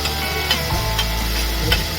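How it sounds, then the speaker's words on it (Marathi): Onion and tomato frying in oil for fish biryani make a steady, close sizzle with a few soft stirring knocks, no voices over it. "आता ना आपला बघा कांदा टोमॅटो मस्त छानपैकी फ्राय झालाय"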